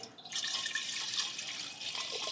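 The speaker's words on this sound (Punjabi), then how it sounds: "ਹੁਣ ਆਪਾਂ ਪਾਣੀ ਪਾਵਾਂਗੇ" Water pours steadily into a brass pot, a close, splashing flow lasting a couple of seconds.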